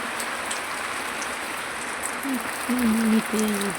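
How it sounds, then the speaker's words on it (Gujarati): Heavy unseasonal summer rain pours as a steady, dense hiss throughout, while a voice speaks over it near the end. "ખૂબ જ વરસાદ પડે છે"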